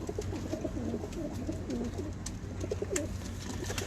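Pigeons coo on an evening rooftop in a series of soft, rolling calls. The calls sit over a constant low background hum with a few sharp clicks.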